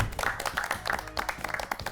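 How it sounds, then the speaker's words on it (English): A studio audience claps for a quiz team on a cricket quiz show, a brief patter of scattered hand claps over two seconds with some background murmur. "They got tired after clapping for two teams."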